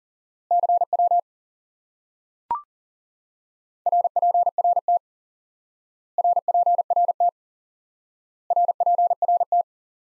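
Morse code tones at a steady pitch, sent as four clustered bursts of short and long elements separated by pauses, with one sharp click between the first and second groups; clean, loud and without voices.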